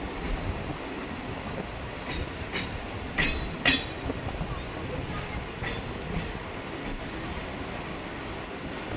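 A local train rumbles into Bamungachhi station on the Bangaon line, with a steady rolling roar and a few sharp metallic clanks and squeals from the wheels and carriages.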